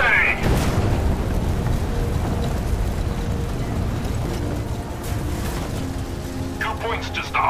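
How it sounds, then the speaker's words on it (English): Rocket engines on the USS Constitution ignite in Fallout 4, a loud, continuous broadband roar and rumble that holds steady for several seconds, with voices over it. "Mr. Navigator, light the engines."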